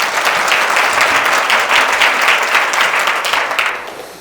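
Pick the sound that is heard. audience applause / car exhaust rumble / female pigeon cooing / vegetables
audience applause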